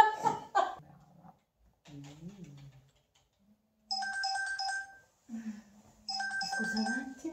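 A phone ringtone plays in short melodic bursts separated by gaps, fairly clear and close, with someone speaking briefly around it.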